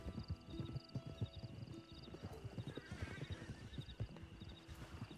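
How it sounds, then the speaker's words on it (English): Horse hooves clip-clop steadily in a Wild West roleplay video game set in New Austin, with an occasional whinny over busy ambient game sounds and no talking. "Oh, it's not somebody, it's a horse."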